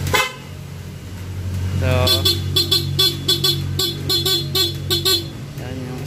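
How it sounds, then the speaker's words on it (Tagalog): A stock car horn honks in a quick series of short beeps, close and fairly loud, over a low idling hum, with a word spoken at the start. "yan yung stock horn"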